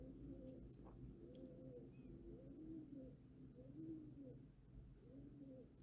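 Repeated low, soft cooing of a pigeon outside a window in a gentle rhythmic series, somewhat distant and quiet, with no one speaking.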